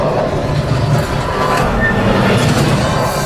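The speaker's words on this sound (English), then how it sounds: "Fire the missiles at the train!" A loud, steady mechanical rumble and clatter of a theme park ride's train crashing down, sustained throughout with a roaring low end, from the Millennium Falcon: Smuggler's Run ride at Star Wars: Galaxy's Edge.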